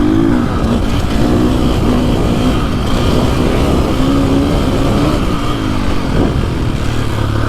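A KTM 450 XSXF Factory Edition dirt bike engine revving quickly and riding hard, a loud rasping single-cylinder roar with rapid pitch swings and clatter, heard close and continuous.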